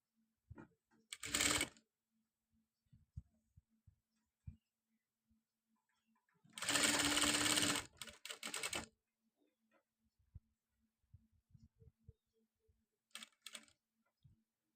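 Sewing machine stitching georgette fabric for a designer long gown, short bursts of rapid whirring stitches with one longer run in the middle, separated by quiet handling noises and small clicks, close and moderate.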